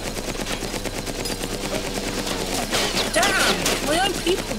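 Rapid automatic gunfire in Battlefield Heroes, a dense stream of loud shots with chaotic in-game effects and a voice talking over it.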